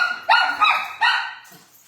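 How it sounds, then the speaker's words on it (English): A dog barks three times close by in quick succession, sharp and loud, with a short trailing yip at the end, no voices. "Hey, Livy, go outside and bark."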